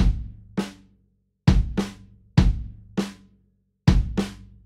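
A simple drum groove programmed in Ableton Live, punchy kick hits with sharp attacks in a sparse, repeating pattern of about eight strikes, clean and close with silence between beats.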